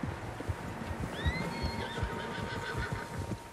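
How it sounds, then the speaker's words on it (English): A horse whinnies once, high and wavering, over a busy rumbling background with scattered thuds that could be hooves, in the video game Red Dead Redemption 2. "Horses, quite a few of them."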